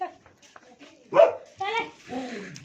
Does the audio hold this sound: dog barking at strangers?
yes